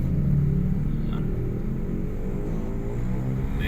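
Tricycles and motorcycles pass along the road at Taytay Public Market in Rizal, making a steady low rumble of engine traffic with a faint whine of passing vehicles and no voices.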